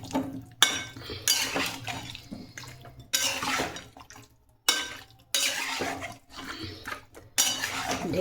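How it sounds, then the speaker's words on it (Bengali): Meat being stirred in a cooking pot before the lid goes on: several bursts of scraping, clattering utensil-on-metal sounds separated by brief pauses, close and moderately loud, with no talk. "একটুখানি ভালো করে নাড়াচাড়া করে আমি ঢেকে দেবো"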